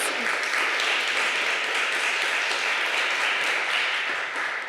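Steady audience applause fills a panel discussion room on the future of news beyond legacy media, a dense, even wash of many hands clapping at once that holds for several seconds before easing slightly at the end.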